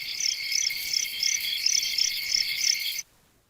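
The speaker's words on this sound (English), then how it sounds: "So I'm going to hit play on or preview on our cicadas chirping here." Steady, fast pulsing insect chirr, high and continuous with regular rhythmic bursts, then cutting off abruptly near the end.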